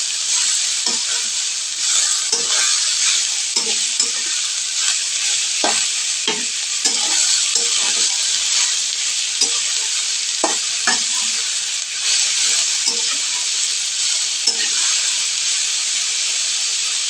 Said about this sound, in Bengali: ধুয়ে রাখা করলাগুলো দিয়ে দিলাম, এটাকে ভালো করে নেড়ে নেব।